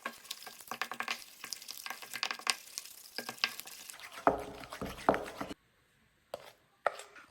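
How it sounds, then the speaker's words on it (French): Whisk or spoon stirring sugar, melted butter, egg and vanilla into a cake batter in a bowl, a quiet uneven run of scraping and tapping strokes, with a short pause near the end. "Et on va mélanger jusqu'à ce que ce soit homogène."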